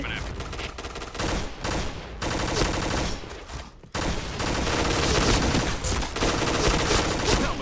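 Gunfire from the Pink Dragon gun in the online shooter Point Blank: dense, rapid bursts of game shots that run almost continuously with a brief break near the middle, fairly loud, with faint talk underneath.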